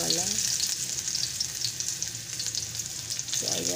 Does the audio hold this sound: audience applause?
no